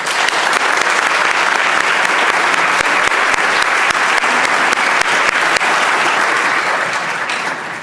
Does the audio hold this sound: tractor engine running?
no